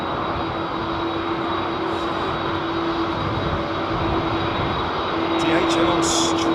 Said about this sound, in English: Listen to those old CF6s, or are they Pratts?